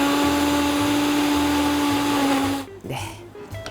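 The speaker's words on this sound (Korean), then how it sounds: "양파가 먼저 들어가면 수분이 없어서 잘 안 갈려지니까 배를 먼저 넣으시는 게 좋습니다" An electric blender grinds pear and onion for a galbi-jjim marinade with a steady, loud motor whir for about two and a half seconds, then cuts out abruptly and leaves quieter kitchen noise.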